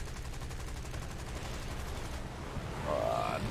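Spitfire machine guns firing in War Thunder, a steady rapid rattling stream that continues throughout at moderate loudness, with engine roar underneath and no talking.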